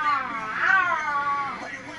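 A voice does a drawn-out, wavering meow, imitating a cat up close for about two seconds.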